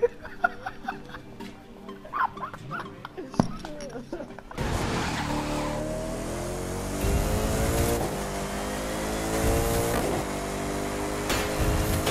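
A race car engine in The Crew 2 roars and revs continuously after a sudden start, loud and sustained with rising and falling pitch, while voices are heard in the first few seconds.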